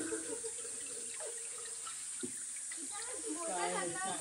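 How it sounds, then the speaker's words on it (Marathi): Water from a stream in a Konkan village runs and splashes steadily over large stones, a continuous broadband wash heard close, with speech-like voices faintly underneath. "पाणी जात आहे."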